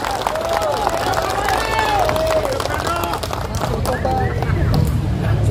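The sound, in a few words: audience applause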